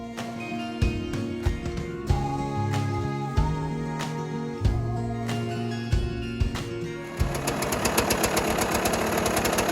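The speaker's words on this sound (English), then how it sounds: "This is the very warm-up sound of a properly venting and exhausting KTM 200." KTM 200 dirt bike engine idling during warm-up with a properly venting exhaust, a steady close-up chugging putter with rhythmic knocking pulses, alone with no talk.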